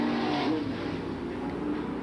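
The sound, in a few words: late model super stock race cars racing on track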